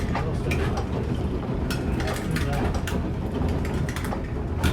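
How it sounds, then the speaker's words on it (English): Machinery of a historic working grist mill in New Jersey grinding corn, a steady loud mechanical rumble with clicking, ratchet-like knocks and gear noise running continuously throughout. "So it's a functional grind mill."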